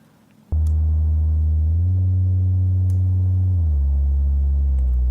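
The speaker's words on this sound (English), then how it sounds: "And that is our bass sound." A deep, steady synthesized bass tone starts abruptly and holds, stepping up in pitch and later back down, with a clean humming quality and no voices.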